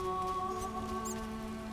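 Rain falls steadily in The Witcher video game, a soft continuous patter beneath sustained tonal ambient hum, with no voices.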